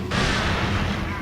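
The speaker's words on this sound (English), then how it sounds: "Well, you see, I did test out the grenades. They exploded." A grenade explodes in the Resident Evil 4 video game: one heavy, loud boom that rolls into a long, thick rumble and fills the whole moment.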